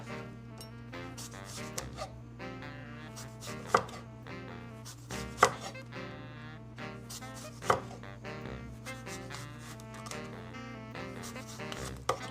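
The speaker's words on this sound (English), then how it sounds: "we're gonna make some thinner sliced pickles, the kind that we can put on hamburgers and stuff." Thin slices being cut through large home-grown garden cucumbers for pickles, a steady run of close knife chops on a cutting board with a few sharper, louder strikes, over a constant low background hum.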